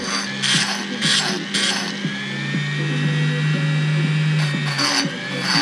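A small rotary tool grinds at low speed inside an original engine cylinder, giving a steady close whine with bursts of harsher scraping as the bit bites into the metal, without speech.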